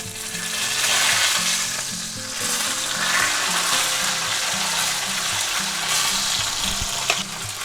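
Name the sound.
chuck roast searing in a pan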